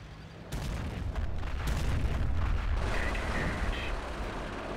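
Artillery counter fire in the WWII strategy game Company of Heroes: heavy rumbling booms and blasts rolling together, loud and dense, with faint mechanical sounds mixed in.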